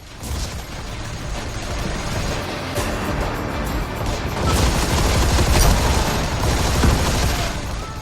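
Sustained automatic gunfire and rapid shots pile up loudly in Army of Two: The 40th Day, a dense barrage that swells and intensifies toward the end.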